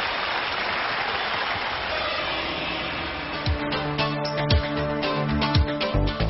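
Studio audience on a Chinese talk show claps for a musician, a dense wash of applause that thins toward the end as musical tones and scattered claps break through.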